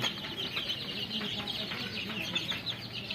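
A crowd of twenty-day-old Fayoumi chicks cheeps and peeps continuously nearby, high overlapping chirps with a soft clucking undertone.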